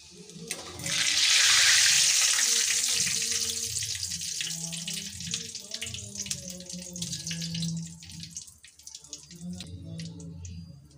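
Mixed pakoras sizzle in hot oil, with a loud hissing surge near the start that slowly settles into a softer, crackling fry.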